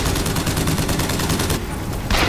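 Minigun fire in the video game Bioshock Infinite, a loud, rapid, continuous stream of shots that briefly thins, then surges back in at the end.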